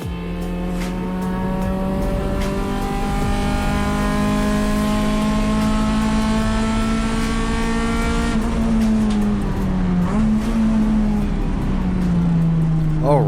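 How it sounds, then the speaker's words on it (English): A touring race car on track during qualifying, its engine droning loudly and steadily as it shifts through gears, with a voice speaking over the engine. "I'm driving the car, putting in my qualifying time for Sunday's race."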